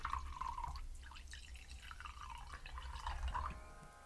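Wine poured into crystal glasses makes a trickling, gurgling liquid stream with dripping, bubbly tones that rise and fall over several seconds, close up and fairly quiet.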